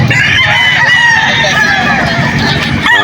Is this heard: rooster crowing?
yes